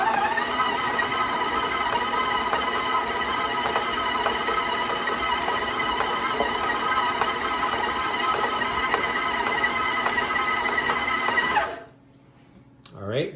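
An electric stand mixer whirs steadily as it beats whole wheat dark chocolate chip, sesame and oat cookie dough, a loud continuous motor drone that stops abruptly near the end and leaves near silence.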